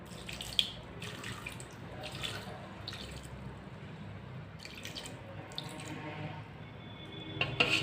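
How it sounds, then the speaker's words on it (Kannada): Water pours into a cup in a home kitchen, measured out for melting jaggery into syrup: a steady, close splashing trickle that runs throughout with a few brighter spurts, and no voices. "ಈ ಕಪ್ಪಲ್ಲಿ ಒಂದು ಕಪ್ಪಷ್ಟು ನೀರು ಹಾಕ್ತಾಯಿದ್ದೀನಿ"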